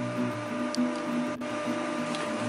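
A sewing machine stitching fabric pockets onto a front or back panel of an EDC organizer, a steady whirring hum with faint rhythmic clicking and a small knock near the middle, close and alone.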